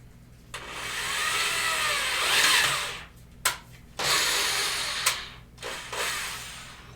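A power drill whirs in several bursts, driving screws into the wooden strongback of a skin-on-frame kayak build, with short pauses and clicks between runs, close and fairly loud.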